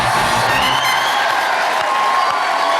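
A television studio audience claps and cheers in a sustained, loud burst for a singer arriving as a guest, with dense crowd noise and scattered whoops.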